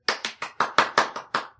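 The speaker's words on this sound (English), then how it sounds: "Can you give us a couple claps so that we know you're here?" Eight crisp hand claps ring out in a quick, even rhythm close to the microphone in a podcast studio room, with no voices over them.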